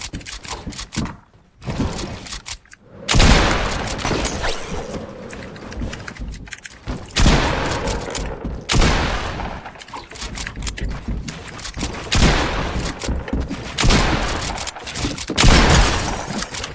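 Gunfire in a video game shooting duel: repeated sharp shots and bursts crack out in clusters, with brief quiet gaps between volleys.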